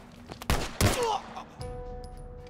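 Several sharp gunshots ring out in The Last of Us Remastered, a snowy danger sequence: two loud bursts close together, followed by a steady hum and faint tonal game sounds.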